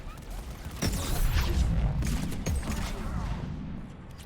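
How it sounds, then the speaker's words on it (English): Grenade explosions and gunfire in the video game Mass Effect 3 Legendary Edition, a couple of sharp blasts over a continuous rumbling combat din that fades toward the end. "Let's just throw grenades at it."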